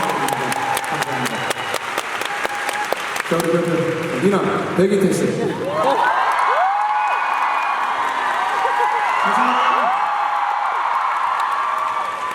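A concert audience at a gala show in Seoul claps and cheers in a steady, busy wash that runs under a host's speech, with whoops and squeals rising from the crowd as the talking goes on.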